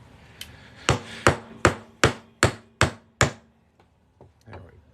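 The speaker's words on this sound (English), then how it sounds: "I gotta punch this through here, so it's hammer time." A hammer strikes a steel center punch resting on a silver coin seven times in a steady rhythm, each blow a sharp, close metallic knock, followed by a few faint light taps.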